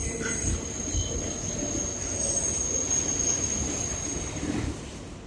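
A Brooklyn-bound 4 express train on the New York subway runs with a steady low rumble, heard from inside, while faint metallic wheel squeals ride above the roar.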